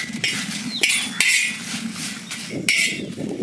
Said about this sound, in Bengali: লঙ্কাটাকে ভেজে নেব।